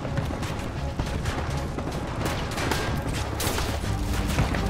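Dense, rapid gunfire from green and tan plastic army men fighting a battle in the Army Men video game, a continuous loud barrage of overlapping shots with no pauses.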